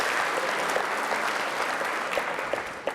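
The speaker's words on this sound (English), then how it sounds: "They're working on that one clap" Steady audience applause at a football awards event, a dense continuous patter of clapping from a room full of people with a few sharper claps standing out, no voices over it.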